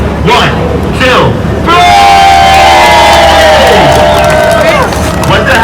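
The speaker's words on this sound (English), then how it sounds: "everyone clap your hands and make some noise" A street crowd in Times Square cheering and yelling loudly for street dancers, a roaring wave of voices that swells midway and holds, with whoops rising above it; clapping is not clearly distinct within the noise.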